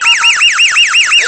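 A mall fire alarm blares close and loud in a rapid, repeating sweeping whoop with about seven even cycles, alone with no voices.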